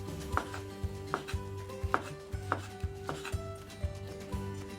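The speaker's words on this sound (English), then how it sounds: "Then, cut the egg into very thin strips." A knife slices a rolled sheet of thin cooked egg on a cutting board, tapping the board in a steady rhythm of about two cuts per second, close and clear with no talking.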